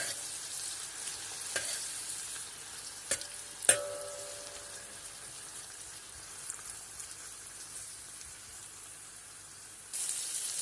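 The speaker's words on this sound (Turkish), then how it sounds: "Sucukların üzerine de 2 adet orta boy domatesi ilave ediyoruz. tekrar bir karıştıralım." Sliced sucuk and two medium tomatoes frying in a pan while being stirred: a soft, steady sizzle with a few sharp utensil clicks against the pan near the start, close and fairly quiet, no talking.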